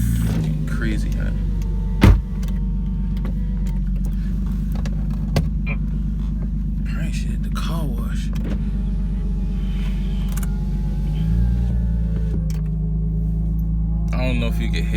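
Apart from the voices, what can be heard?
Lexus IS300 with upgraded exhaust driving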